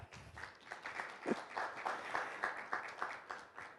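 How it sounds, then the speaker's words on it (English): A conference audience at a business expo and independence festival claps steadily throughout, a dense, continuous patter of many hands at moderate volume with no talk over it. "And we have a clap."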